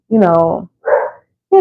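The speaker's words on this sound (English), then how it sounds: "I'm sorry if you hear my dog barking." A pet dog barks in three loud, close bursts, each a harsh yelping bark, with short pauses between them and nothing else heard.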